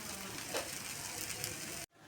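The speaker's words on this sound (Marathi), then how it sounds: "दोन्ही साईडनी छान खरपूस भाजल्यावर हे खाण्यासाठी तयार होईल" Jowar flour dhirde pancake roasting in a pan gives off a continuous soft sizzle and crackle that cuts off abruptly near the end.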